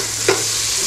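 Onion sautéing with garlic and chili in a pan, a dense continuous sizzle heard close, with one quick stirring scrape in a brief snippet.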